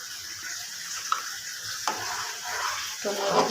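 A spoon stirs bhuna khichuri in a sizzling pot over medium heat, giving a soft steady sizzle with a few scraping strokes, close and fairly quiet.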